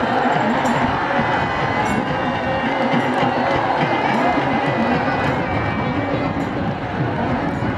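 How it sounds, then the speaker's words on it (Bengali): A crowd of spectators at a village boat race (nouka baich) cheers and applauds the winning team, a continuous dense roar of voices and claps at steady loudness throughout. "মানুষ দর্শকবৃন্দ তাদেরকে করতালির মাধ্যমে অভিবাদন জানাচ্ছে"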